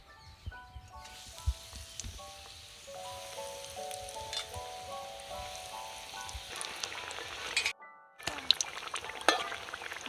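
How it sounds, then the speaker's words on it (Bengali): Mutton fat chops deep-frying in hot oil at home, a steady crackling sizzle with light stirring clinks throughout, some faint music-like tones, and a brief drop in the sound near the end. "বাকি চপগুলো সব ভেজে নেব।"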